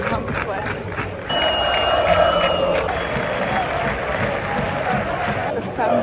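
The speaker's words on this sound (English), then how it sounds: "They're cheering the opposition, whistling the opposition, but they're getting behind their team" Football fans in a Valencia CF stadium keep up a steady roar of cheering, with whistles shrilling over the crowd noise for a couple of seconds early on.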